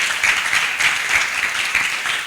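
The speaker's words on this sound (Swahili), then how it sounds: "Wapi makofi ya CU tafadhali?" An audience claps for a show's sponsor, giving steady, dense applause that fills the space. It stays loud and continuous throughout, with no talking over it.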